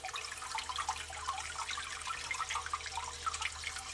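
A 1961 Case 1100 Lowboy toilet flushing while clogged, with its tank ball stuck up; a steady close rush and trickle of water runs throughout, with bubbly splashing detail and no voices.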